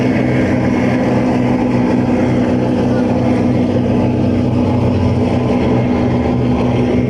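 Loud, unbroken roar of a river flotilla patrol boat's engine, a dense steady drone with no pauses throughout.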